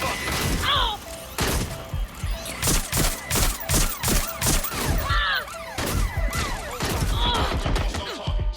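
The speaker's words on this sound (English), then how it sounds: "They're shooting us!" Gunfire in the video game Watch Dogs Legion during a police chase: loud, rapid bursts of shots in quick succession over several seconds, with thuds and mechanical clatter mixed in.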